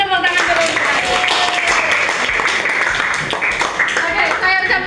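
A classroom of high school students gives a short round of clapping, dense and close, mixed with voices and cheering throughout.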